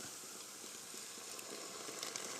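Steady hiss of liquid poured into a hot pan of cooking crabs, a continuous bright sizzle at low volume with no talking.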